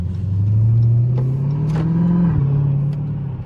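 Loud Dodge Hellcat engine accelerating on wet roads, a deep rising growl that holds steady for a few seconds and then drops abruptly as the revs shift, heard close and alone.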